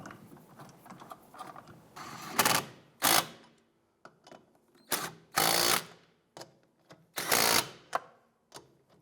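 Lug nuts on a 2001-2005 Honda Civic rear wheel are snugged down with a ratcheting tool, several short bursts of mechanical whirring and clicking separated by quiet pauses, close and moderately loud.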